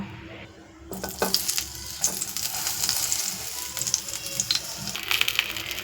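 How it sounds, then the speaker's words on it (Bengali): Eggplant pieces frying in a little mustard oil in a wok give a steady, close crackling sizzle, rising after a quiet first second with scattered sharper pops and spatters, and no voices. "তেল গরম হয়ে গেলে বেগুনগুলো আমি হালকা ফ্রাই করে নেব"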